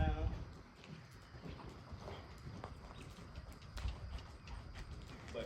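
A racehorse named Chrome in training gives a steady, muffled clip-clop of hooves, fairly quiet, beneath wind or handling noise, with a voice nearby.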